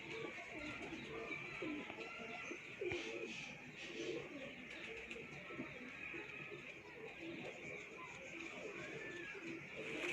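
Pigeons cooing in a loft kept by a fancier, a soft continuous murmur of low calls with steady background hiss and faint voices.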